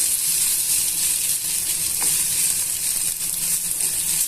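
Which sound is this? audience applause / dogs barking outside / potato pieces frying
potato pieces frying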